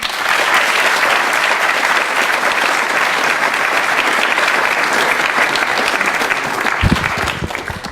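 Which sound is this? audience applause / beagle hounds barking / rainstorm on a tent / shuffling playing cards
audience applause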